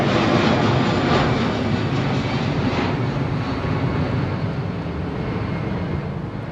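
An A321 freighter aircraft at London Heathrow Airport: a steady, broad engine rumble and roar, loud and continuous, slowly easing in level, with no voices.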